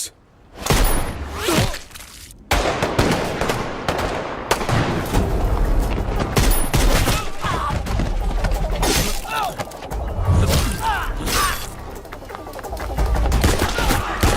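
A film action scene with an RDX explosion and gunfire: a loud, chaotic run of blasts, shattering debris and bursts of shots that fills nearly the whole stretch with dense noise, while voices shout beneath it.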